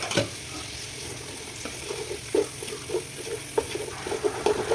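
A chicken biryani mixture with coriander and mint is stirred in a sizzling pan, with a continuous frying hiss broken by repeated scraping knocks of the spoon. No one speaks.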